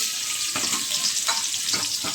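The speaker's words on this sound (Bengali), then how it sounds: "পেঁয়াজটা আগে তেলের মধ্যে দিয়ে নেবো" Chopped onion sizzles steadily in hot oil in a wok, a continuous frying hiss with a few louder crackles and stirring scrapes, no voices.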